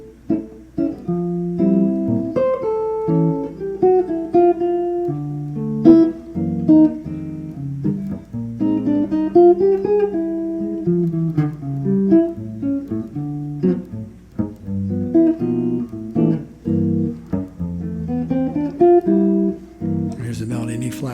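Guitar chords in C played in a lilting Latin three-beat pattern, a steady swaying rhythm of plucked and strummed notes, fairly loud with no voice.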